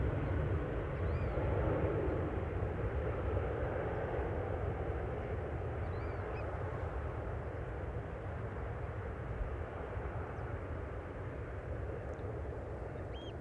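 Boeing 737 departing Amsterdam Schiphol's runway 36L for Helsinki in showery weather: a continuous broad, deep jet roar, distant and fairly quiet, holding steady throughout with no talk.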